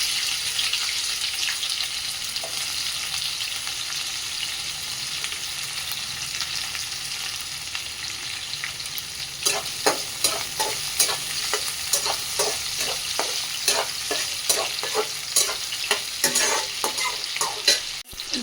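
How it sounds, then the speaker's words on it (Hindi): Onions frying in hot oil with dried chili and cumin for okra bhujia: a constant close sizzle, then a run of rhythmic scraping stirs through the second half. "अब इसमें प्याज डाल के थोड़ी देर बाद भिंडी डाल देंगे।"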